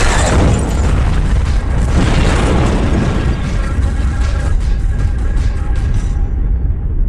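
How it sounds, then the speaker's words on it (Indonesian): In a film scene from The Mechanic, a car explodes at a gas station with a loud, roaring boom that rumbles heavily and slowly fades out over several seconds. "Alhasil mobil itu meledak hingga Stephen menganggap bahwa Arthur sudah mati."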